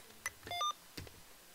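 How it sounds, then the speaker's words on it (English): A Mr. Rags macro keyer gives a confirmation beep when storing a message: a few faint, short electronic tones close together in otherwise quiet surroundings. "I'll store it with 1 beep."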